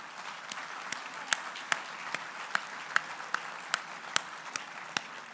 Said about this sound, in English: I think they're due another big round of applause